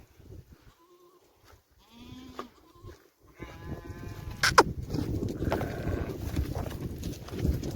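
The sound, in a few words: dairy goat bleating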